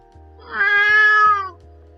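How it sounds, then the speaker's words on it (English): A cat gives a single clear, drawn-out meow, loud and close, over a low steady background hum. "The cat calls the boy, demanding the treatment she always receives from him."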